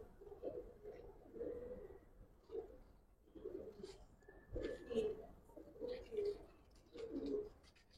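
A silver female Giribaz pigeon of the old Dhaka breed coos in repeated soft, low bursts with short pauses, close by and fairly quiet, with faint chirps from other birds around.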